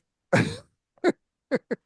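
One harsh cough, then three short, sharp coughs after a pause, loud and close, with no talking.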